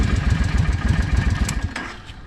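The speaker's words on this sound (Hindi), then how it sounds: "मैं बाइक को अगर मैं स्टार्ट करूँ," Suzuki Volusia VL800 motorcycle engine turning over and running with a steady low pulsing throb, fairly loud and close, easing off slightly toward the end with no talk over it.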